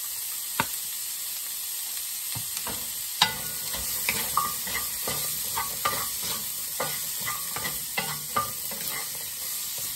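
Squid stir-fries in a hot pan with a constant loud sizzle and hiss. Frequent sharp clacks of a spatula or spoon stirring against the pan come in a loose, irregular rhythm throughout, with no voices.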